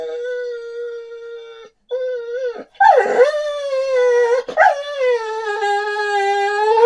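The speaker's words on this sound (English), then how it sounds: "there's 4 little dogs with a drone" Four little dogs howl at a drone, sending up long, wavering, mournful howls with a few higher yips. The cry breaks off briefly near the start, then rises again and holds steady close by, with no talking.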